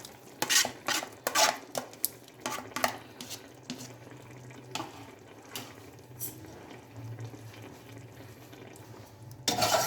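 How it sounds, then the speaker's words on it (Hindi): Tomato paste, ginger and green chilli go into a pot and get stirred with a spoon, giving a run of close clinks and scrapes of metal on the pot, busiest early, then softer stirring with a brief louder clatter at the end. "और चम्मच से हिलाएंगे और इसका पानी अच्छी तरह खुश्क कर लेंगे"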